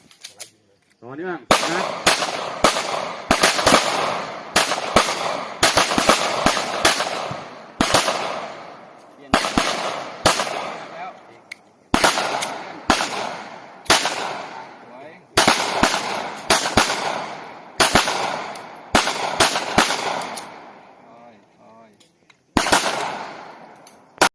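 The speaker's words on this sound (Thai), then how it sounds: "20นัดต่อเนื่องระยะ20 เมตรเรายิงพร้อม" A handgun fires rapid strings of loud, sharp shots at a shooting range at 20 metres, in bursts of several quick cracks separated by brief pauses, about twenty rounds in a row.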